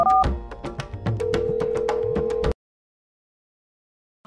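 A telephone call being dialed on a handset, with a short run of tonal beeps and a steady tone over background sound, then abrupt silence.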